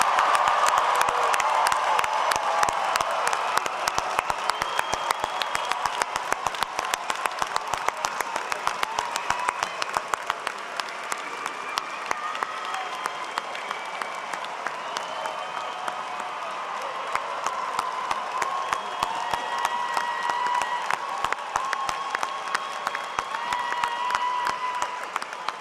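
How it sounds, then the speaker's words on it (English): Sustained applause from a large commencement crowd honoring graduates of Penn State's Eberly College of Science at the spring 2023 ceremony, a dense, steady wash of clapping with scattered cheers lasting the whole stretch. "Let's give them a round of applause."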